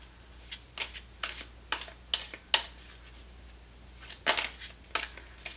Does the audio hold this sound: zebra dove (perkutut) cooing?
no